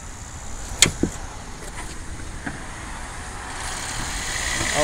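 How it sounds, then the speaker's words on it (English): On a 2004 Toyota Prius hybrid, the small gasoline engine starts as the accelerator is pressed. A few sharp clicks come first, then a low mechanical hum slowly grows louder near the end. "He's going to step on the gas and the little motor is going to go on."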